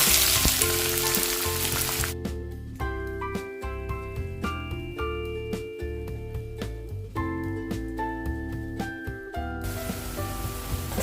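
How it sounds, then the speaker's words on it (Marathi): Onions and curry leaves frying in three tablespoons of oil, with a loud sizzle at the start and end and a stretch of tonal, plucked music in the middle that mostly covers the frying. "तीन टेबलस्पून तेल घालते कढीपत्ता घालते मध्यम आकाराचे दोन कांदे कापून घेतले आहेत ते घालते"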